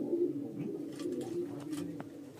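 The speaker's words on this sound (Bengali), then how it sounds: "নর পায়রা সেটআপ এটা, এখানে সব নর পায়রা রয়েছে।" Male Jiria pigeons of Tapan's line in a loft setup coo in a steady, overlapping low murmur, several birds close by, with a few faint scuffs and a brief click.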